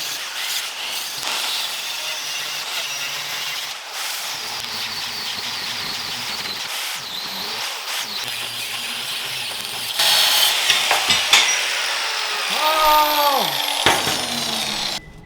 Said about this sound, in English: And now comes the hour of grinding.